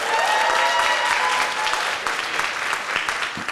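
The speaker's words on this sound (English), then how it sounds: "let's have a round of applause for Stephen and Christina." Guests at a wedding reception break into loud, sustained applause, a dense burst of clapping that slowly thins out over a few seconds.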